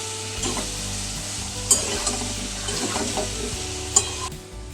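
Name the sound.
potatoes frying with salt and green chilies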